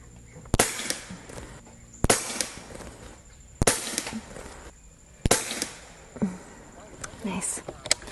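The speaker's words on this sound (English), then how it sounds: "that's 5 shots" A .25 caliber Umarex Gauntlet 2 airgun fires five sharp, loud cracks spaced a second or two apart, with someone talking quietly between shots in an outdoor range setting.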